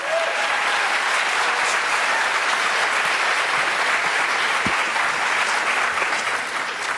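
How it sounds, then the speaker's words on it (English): A crowd claps steadily for juniors at an academic awards ceremony, full and continuous applause filling the room throughout, with a slight easing near the end. "One more nice round of applause for our juniors."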